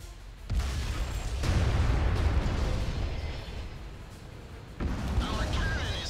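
A shell slamming into the player's tank in World of Tanks, a heavy booming impact with a rumbling tail, followed by a second blast a few seconds later, with a voice talking over it.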